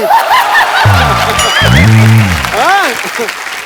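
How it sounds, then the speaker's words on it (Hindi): Studio audience clapping on a Hindi comedy talk show, steady applause running throughout, loud and close, with a musical sting and voices layered over it. "ठोको ताली"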